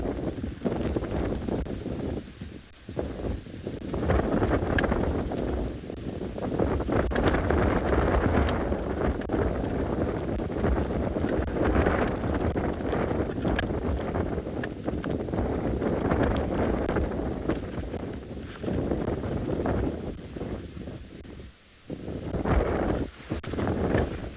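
Wind gusting steadily across an open safari vehicle microphone on a South African morning game drive, a continuous low buffeting roar with brief lulls, heard alone without speech.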